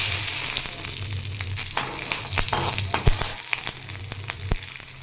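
Mustard seeds splutter in hot oil with cumin for a homestyle upma: a continuous close sizzle with frequent sharp pops and occasional stirring clinks, and no talk.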